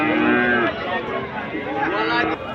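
A Holstein Friesian heifer calf moos at a busy cattle market, one long low call and then a shorter one, close by, with voices of the crowd around it.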